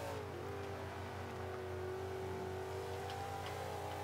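A ZR1 Corvette's engine revs steadily in Forza 5, a loud sustained drone whose pitch dips and then climbs gradually as the car accelerates, heard alone without any talk.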